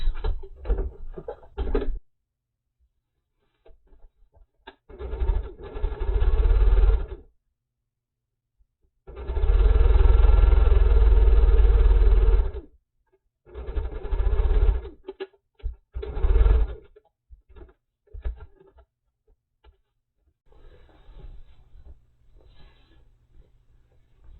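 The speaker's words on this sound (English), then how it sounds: "I will back stitch at both ends of these seams." Sewing machine running in bursts while piecing a Christmas tree quilt top, back stitching at the seam ends: several short runs and one longer steady run of whirring stitches, with quiet pauses and small clicks between.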